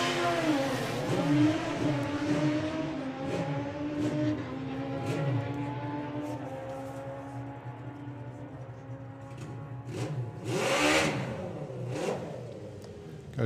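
A 950 motorcycle makes a drag racing run at a strip, its engine revving up through rising gear pulls and then fading with distance, loud and alone with no voices.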